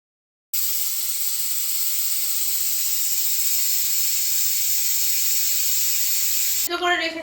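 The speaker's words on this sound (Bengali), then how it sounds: "এই প্রেশার কুকারে মোচা দিয়ে সেটাকে সিটি দিয়ে নেব" A pressure cooker holding banana flower lets out a loud, steady whistle of escaping steam. The broadband hiss starts suddenly and holds unbroken for several seconds before a voice cuts in at the end.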